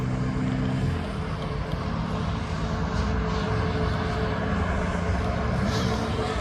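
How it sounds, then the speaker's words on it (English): A Ryanair airliner takes off at East Midlands Airport, its engines a loud, steady broadband roar filling the whole stretch with no voices over it. "This plane is off down to one of the Canary Islands, Fuerteventura."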